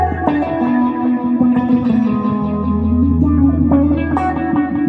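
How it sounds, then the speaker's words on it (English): Electric guitar run through a Sub-Decay Proteus envelope filter pedal with delay into a 1960s Fender Showman tube amp, sweeping wah-like notes with echoing repeats, loud and continuous with no talk. "It's a basically an envelope filter. I love it with a little delay."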